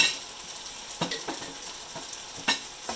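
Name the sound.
crushed garlic sauteing and being stirred in pot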